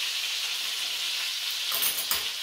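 Baltic cod fillet frying in a pan, a steady, close, loud hiss of sizzling oil with a brief crackling flare near the end, with no talking.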